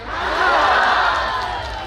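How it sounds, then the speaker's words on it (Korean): An outdoor crowd at a Hampyeong county citizens' day concert claps and cheers together, a dense wash of applause and shouts that swells and holds steadily for two seconds. "박수와 함께 함성 하셨죠?"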